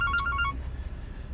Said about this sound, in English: because there's a phone going here